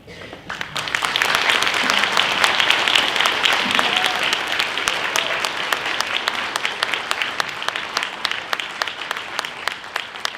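Audience applause at a Wausau Hmong 50th-anniversary community celebration after a speech: loud, sustained clapping from a large crowd that swells quickly and holds steady for about ten seconds.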